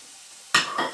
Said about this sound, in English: In here now I'm going to put some onion, which I have just cut up and sliced into pieces. So that goes into your wok first.